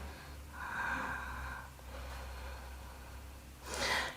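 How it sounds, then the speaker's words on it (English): Slow, deep breaths drawn in and let out during a gentle yoga flow, faint and close, a soft inhale swelling then easing, with a sharper breath near the end. "Lovely deep breaths. Keep those breaths rolling."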